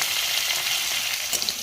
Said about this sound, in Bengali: তেলের মধ্যে পটল এবং আলুকে ছেড়ে দেওয়া হলো